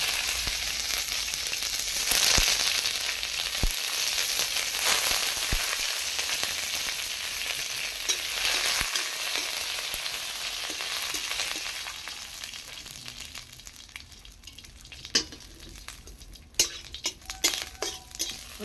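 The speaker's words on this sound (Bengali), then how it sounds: "একটু সরষা আর লঙ্কা দিয়ে দিলাম, একটু কারি পাতা দিয়ে দিলাম।" Mustard seeds, chilies and curry leaves sizzle steadily in hot oil in a kadai as a tempering for coconut chutney, with occasional sharp clinks of a utensil against the pan.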